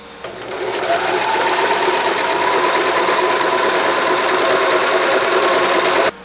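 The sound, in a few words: sewing machine stitching bar tacks on a loop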